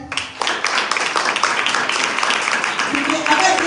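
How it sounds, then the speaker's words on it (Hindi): A church congregation bursts into full, dense applause during a New Year sermon. The clapping starts abruptly and stays steady and loud to the end. "अपने लिए तालियां बजाएं"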